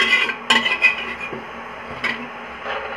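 A metal ladle scrapes and clinks against the inside of a pressure cooker, pulling out leftover thick dal; a few sharp knocks come early and around two seconds, with softer scraping between.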